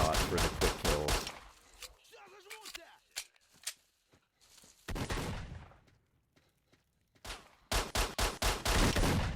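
Gunfire in the video game Stalker: bursts of rapid shots at the start and again near the end, with scattered single cracks and quieter gaps between, loud and close.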